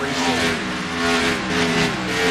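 Stock car engines roar continuously as a pack of race cars circles a speedway, a loud, dense wall of overlapping engine drones rising and falling steadily with no talk.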